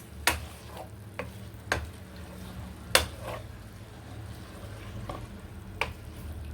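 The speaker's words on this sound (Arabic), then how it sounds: "دابا يلا حرك مزيان" Mushrooms being stirred in a pan of soup, a few sharp scraping and clinking strokes of the utensil over a soft bubbling, simmering background, close and moderately quiet.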